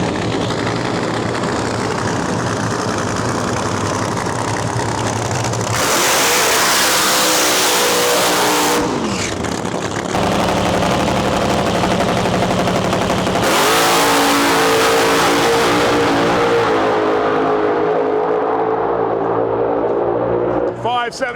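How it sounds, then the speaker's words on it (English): Nitro Funny Car drag racing final at the Rocky Mountain Nationals: loud, sustained engine roar that surges to full-throttle bursts around the middle, with crackling, gunfire-like exhaust and voices under the din. "we have the Nitro Funny Car Final coming to you right now"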